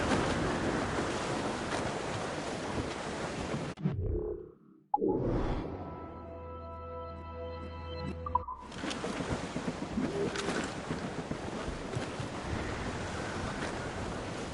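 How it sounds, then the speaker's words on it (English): Gale-force wind and crashing waves surge around a sailing ship in Assassin's Creed Rogue, a loud broadband rush that briefly drops away to a quieter tonal hum before roaring back. "This gale's got teeth, Captain!"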